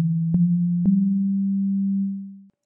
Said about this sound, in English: You can start with a single oscillator and a sine wave and then just go nuts.